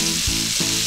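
Onions frying with salt in melted butter in a pan that still holds beef juices, a soft steady sizzle running throughout with two brief low stirring thumps.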